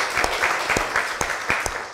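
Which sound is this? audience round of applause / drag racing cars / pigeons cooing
audience round of applause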